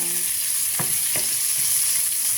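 Carrots and chili sizzle in a frying pan as a utensil stirs them in two or three short scrapes over a steady hiss, close up with no talk.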